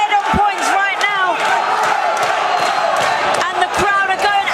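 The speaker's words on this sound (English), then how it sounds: "the crowd are going absolutely wild" A boxing crowd at York Hall in London roars and cheers wildly during the final round of a fight, a loud, dense wall of shouting and whoops that never lets up.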